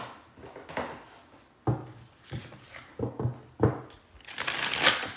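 A deck of cards shuffled by hand, soft riffling and tapping in scattered bursts, close and fairly quiet, ending in a longer rustling riffle.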